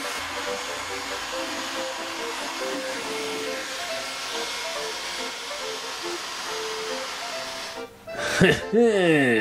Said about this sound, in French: Saisissez sans perdre une seconde le décapeur thermique afin de recommencer une séance de séchage express.